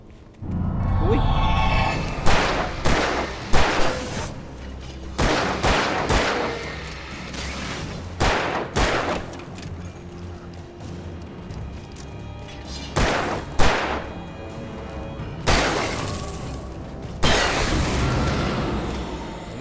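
Gunfire in Alan Wake Remastered, with loud, spaced single shots and short bursts echoing over a tense game backdrop. A few booming hits sound in between, and speech is faint and only occasional.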